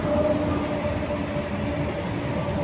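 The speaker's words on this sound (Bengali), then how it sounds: "দেখো এই পাশ দিয়ে একটা গাড়ি যাচ্ছে।" A train rolls past close by near the site of the Gyaneshwari Express accident, a loud steady rumble of wheels on track with a faint tonal whine, and no one speaking.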